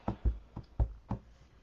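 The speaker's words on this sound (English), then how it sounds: "we'll stamp that just randomly on the scratch paper" A rubber stamp tapped several times onto scratch paper during a card-making class: five soft, dull knocks in an uneven rhythm, close and fairly quiet with no talk.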